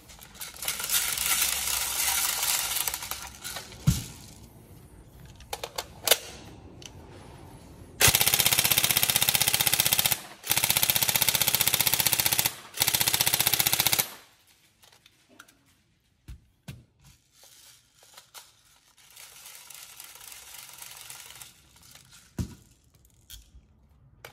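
An upgraded Tokyo Marui MK18 NGRS airsoft rifle fires three loud, sustained full-auto bursts with brief gaps between them. Its buzzing mechanical rattle is followed by scattered clicks and handling noise.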